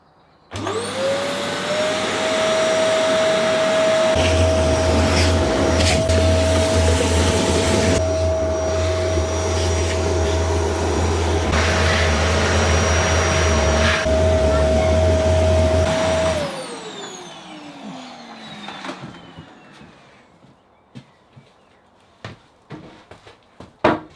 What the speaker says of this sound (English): I'm going to have a moment to myself with this Hoover and get tidied up